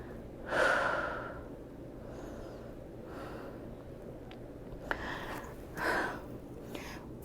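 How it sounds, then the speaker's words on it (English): Deep breaths during a power vinyasa yoga flow, two slow audible inhale-exhale cycles, close and breathy over a quiet room hiss, no talking. "Close your eyes and take a breath."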